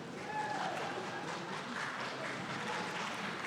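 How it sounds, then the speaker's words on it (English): Steady applause from a crowd fills the space, a dense wash of clapping with faint murmuring underneath. "We have applause for 110"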